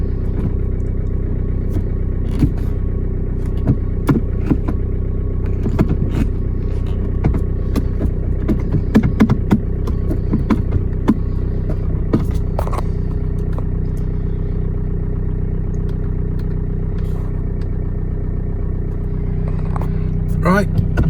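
A 2013 Renault Megane MK3 1.5 diesel idles steadily after a clutch replacement, a constant low engine drone running throughout with scattered clatters and knocks from nearby work over it.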